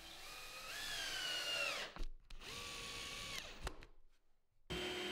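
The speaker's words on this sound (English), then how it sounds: "reinforce these joints with a few screws." A power drill drives screws into wooden joints in two whining bursts that rise and fall in pitch, with short gaps and clicks between them and a third burst starting at the end.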